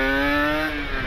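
A Kawasaki Ninja RR motorcycle, freshly fitted with a 13-39 gear set, revs up close in a short burst at night, a strong harmonic engine whine that dips slightly as it settles.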